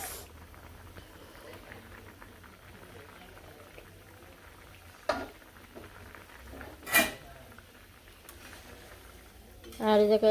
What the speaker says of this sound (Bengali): পেঁয়াজ ভেজে রাখছি